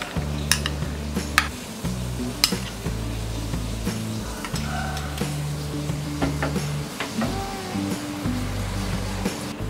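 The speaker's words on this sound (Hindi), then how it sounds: "पैन में डालेंगे ये 2 टेबलस्पून घी" Two tablespoons of ghee heating in a pan on a gas stove, a soft steady sizzle with occasional clinks and scraping of a utensil against the metal.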